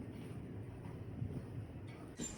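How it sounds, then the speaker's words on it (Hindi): A light breeze blowing outdoors on a university campus in China produces a continuous low, buffeting rumble on the microphone, steady and moderately quiet, with a slight gust near the end. "आज हल्की हल्की हवाएं चल रही हैं।"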